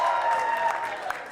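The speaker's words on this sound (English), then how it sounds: "you hear people cheer every time we see the latest results come in" Campaign volunteers at an election-night headquarters for a Nanaimo byelection cheer and applaud in a steady, dense wash of crowd noise with a rising burst near the end.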